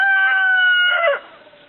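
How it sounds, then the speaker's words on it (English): A single chicken lets out a clear, sustained call lasting about a second, close and fairly loud, then trails off into quiet. "Look at that chicken."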